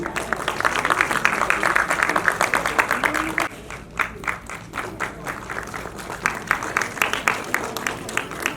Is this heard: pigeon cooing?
no